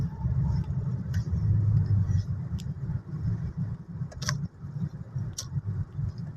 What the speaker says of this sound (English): Just like almost 1 kilometer, but then so heavy traffic here.